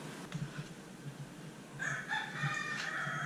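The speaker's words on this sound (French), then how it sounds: "Il me réveille un petit peu tôt. Mon coq." A rooster crows on the island of Nuku Hiva, one fairly faint crow that starts partway through over quiet outdoor ambience, with no one speaking.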